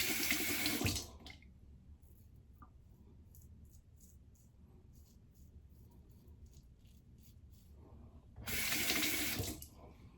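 Bathroom tap water running into a sink during a shave, two loud bursts of rushing water at the start and end, with a quiet stretch of faint trickling and small rattles between them.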